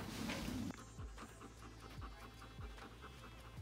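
A police K9 dog pants steadily and rhythmically at close range after finding hidden drugs during a search, with a soft scratch or rustle at the start and no talk.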